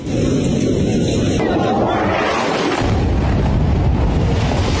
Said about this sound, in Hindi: बंकर में मची तबाही, F-16 ने बरसाई मिसाइल।